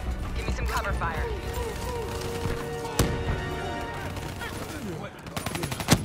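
Rapid gunfire rattles through a Call of Duty: Black Ops III firefight, with bursts of automatic fire and a loud crack midway, while voices talk over the shooting.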